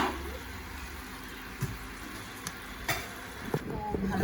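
Peanuts with turmeric and chili powder fry in a pan under a steady hiss, with occasional scrapes and clinks of stirring and a faint voice nearby near the end.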